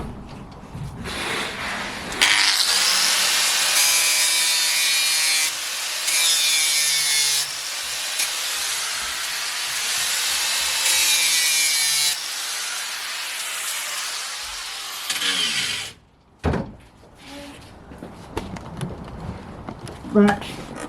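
Spear blank cut and shaped with a flap disc: long, loud abrasive grinding and rasping passes with short pauses between, ending in a few scattered knocks and handling noises.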